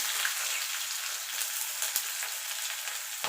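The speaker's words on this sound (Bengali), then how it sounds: "পেঁয়াজটাকে একটু ভাজা ভাজা করে নেব" Onion frying in hot oil with green and dried red chillies, a steady close sizzle throughout with faint occasional stirring, no talking.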